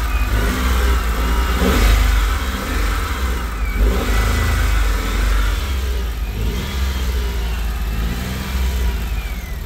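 A 2018 Lada Largus with about 86,000 km, running on gas, idles and is revved repeatedly up and down close by. The loud engine drone rises and falls in several swells, with no talk.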